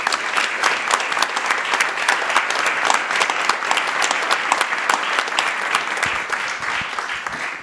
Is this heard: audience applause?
yes